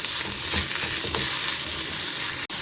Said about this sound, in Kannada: ಇದು ಸ್ವಲ್ಪ ಚೆಂದ ಹುರ್ಕೋಬೇಕು.